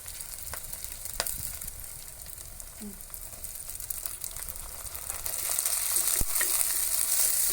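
Chopped onion and tomato with split chickpeas sauté in a pan, a continuous close sizzle with scattered stirring scrapes and clicks that grows louder and brighter toward the end, no speech.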